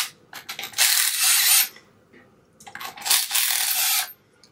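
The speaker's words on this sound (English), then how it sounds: "we're going to take off these three bolts or nuts" Bolts or nuts come off a GX5 diaphragm pump chamber with two bursts of close metallic ratcheting and clinking, separated by a short quiet gap.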